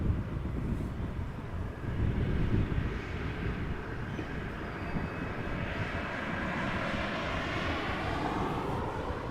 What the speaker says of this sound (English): This is an Embraer 195 long range, 10 years old, first flight January